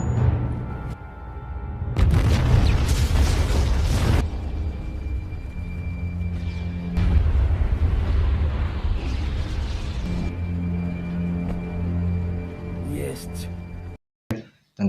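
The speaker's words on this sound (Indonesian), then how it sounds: "mereka melemparkan granat sehingga membuatnya meledak" A loud, deep grenade explosion bursts out with a rumbling roar, followed by another heavy blast and lingering rumble, with film score and effects around it in an action film.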